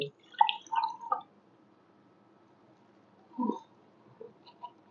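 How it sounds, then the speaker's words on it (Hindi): Distilled water poured in short splashing bursts while hypertonic saline is prepared, a few brief drips and trickles close by with quiet pauses between them. "पहले पानी वाटर डिस्टल वाटर ऐड करेंगे।"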